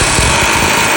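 A pneumatic air hammer works at rivets on an old Ford F100 truck, a loud, continuous rapid rattling and hiss filling the whole second.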